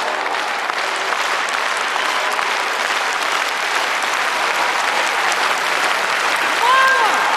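An audience at a folk concert of chastushka songs claps in dense, sustained applause throughout, with a faint tonal note near the end.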